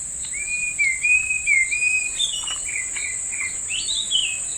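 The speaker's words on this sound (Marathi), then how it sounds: "तुम्ही ऐकू शकता आजूबाजूला चिमण्या पक्षींचा आवाज आहे." Small birds, sparrows among them, chirp and whistle around a village house in Konkan, with sliding tonal calls repeating close by over a steady high insect drone, and no talking.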